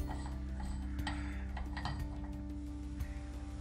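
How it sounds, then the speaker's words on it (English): Bristan mixer shower cartridge collar being unscrewed by hand, giving close, faint metallic clicks and ratcheting scrapes over a steady hum. "Okay, next thing is this collar here, so we need to just unscrew the collar."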